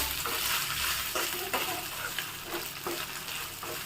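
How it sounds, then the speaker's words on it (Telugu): Ginger garlic paste frying in a pan for a cashew paneer curry, with a steady hiss of hot oil and rhythmic scraping stirs recurring every half second or so, close and moderately loud. "అల్లం వెల్లుల్లి పేస్ట్ని ఒక హాఫ్ టీ స్పూన్ వేస్తున్నానండి దీన్ని కూడా పచ్చి స్మెల్ పోయేంత వరకు వేయించుకోవాలి"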